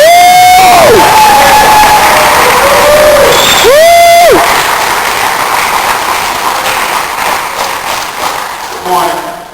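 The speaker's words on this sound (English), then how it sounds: "Let's give a round of applause for Mr." Graduation audience at a Baltimore, Maryland workforce and technology center breaks into loud cheering and whooping with applause underneath. Shrill voiced whoops rise above a dense crowd roar that gradually eases off.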